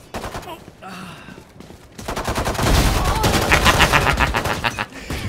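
Rapid bursts of Valorant gunfire crackle loud and close, building from a quieter start into sustained automatic shooting through the second half.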